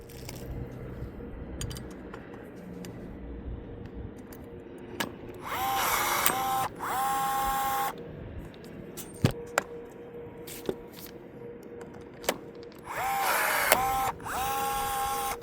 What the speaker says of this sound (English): hopefully you guys can appreciate why I like a power rivet gun now